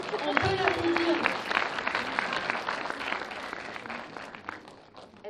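Audience applauding at a film premiere, a dense wash of clapping from a crowd that carries steadily for several seconds before tapering slightly, with a few voices calling out over it.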